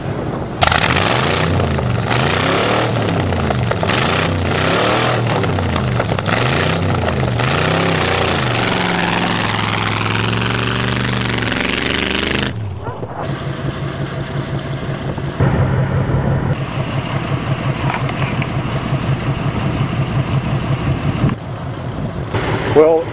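Buick Roadmaster with custom chopped exhaust headers, engine revving and running loud and close, pitch sweeping up and down before settling into a rough, steady drone.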